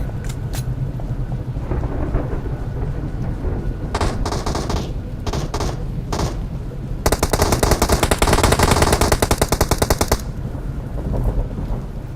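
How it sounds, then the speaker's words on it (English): Gunfire in the mobile battle royale game PUBG Mobile, loud scattered single shots followed by a long rapid automatic burst of machine-gun fire over a dense rumbling background, no talk. "Somebody else noticed me shooting there and shooting at me."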